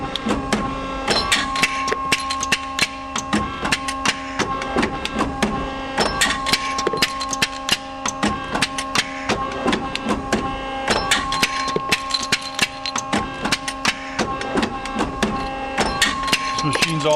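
An industrial parts press stamps out short fuel line tube connectors with steady, loud, repeated metallic strokes and clanks, its indexing tooling rattling close by in a dense, continuous rhythm with no talking.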